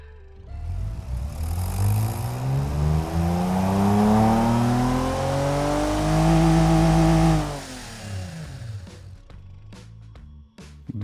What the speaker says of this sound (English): let's give it a go